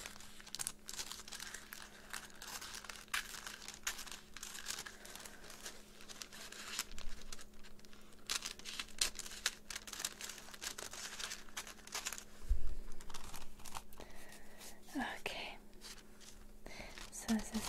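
Scissors snip and paper crinkles while a small paper snowflake is cut in a quiet close-up craft setting, with soft irregular rustles and snips and a faint whispering voice.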